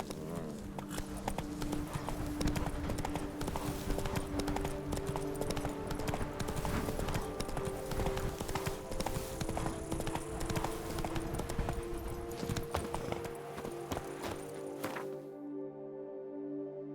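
Horse hooves clip-clop steadily while riding in The Witcher 3: Wild Hunt, Blood and Wine, a dense rhythmic trot under a game music bed, continuing for about fifteen seconds before cutting out.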